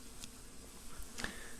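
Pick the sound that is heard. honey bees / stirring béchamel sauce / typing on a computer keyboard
honey bees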